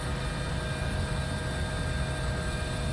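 Steady, loud engine and rotor drone of a helicopter in the X-Plane 11 flight simulator, a continuous broadband rumble with no voices over it.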